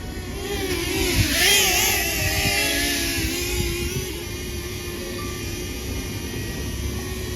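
A DJI Flip drone in flight gives off a steady, high electric whine and whir from its propellers, swelling slightly nearby before settling into a constant hum.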